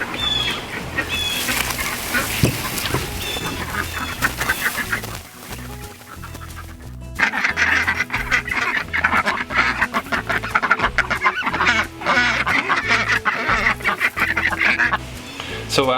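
Ducks quack and chickens cluck in a busy, continuous farmyard chorus, close by and fairly loud, with a brief quieter dip partway through.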